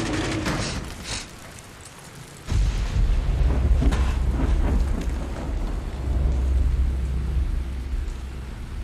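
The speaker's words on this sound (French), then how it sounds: "Oh là là là là là là là là, les éclairs. Les intempéries, la pluie, le vent" Thunderstorm in the video game Dying Light: heavy rain hisses throughout, a sharp crack of thunder breaks early on, and a deep rolling rumble swells in and sustains loudly from the midpoint to the end.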